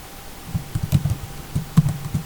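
Computer keyboard typing at a desk, a short burst of soft, muffled keystrokes in an uneven rhythm, fairly close with a faint background hum and no talking.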